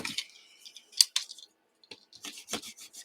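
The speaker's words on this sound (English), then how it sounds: "use your scissors. Easy peasy. It'll cut right through it" Scissors snip through fabric on a craft board, a few brief crisp cuts and rubbing sounds, close and fairly quiet, with short pauses between.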